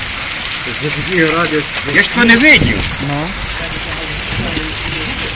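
A hailstorm batters a railway crossing in Khodoriv with a dense, continuous hiss and patter. It sounds loud and close throughout while people talk over it.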